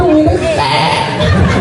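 A person imitates a goat's wavering bleat, loud and close, with other voices chattering around.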